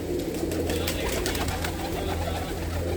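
Pigeons kept in a loft where hens have laid eggs coo in a continuous low, throbbing murmur, close and steady with no talk over it.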